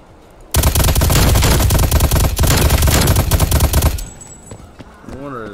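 A video-game gun with a small 70-round magazine fires a long, loud, continuous automatic burst lasting several seconds, then stops abruptly; a voice speaks briefly afterward.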